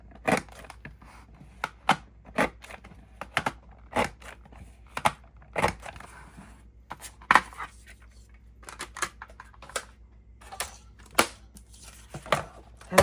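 An edge punch chops through paper in a long run of sharp, close clicks and crunches, spaced unevenly about every second, with faint rustling between them.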